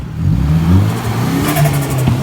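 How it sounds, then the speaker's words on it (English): A right-hand drive Nissan S14 engine revs up close and loud, the pitch climbing and dropping through a couple of throttle blips before settling into a rising drone, with no talking over it. "This is Robert's right-hand drive, S14. Straight from the motherland itself."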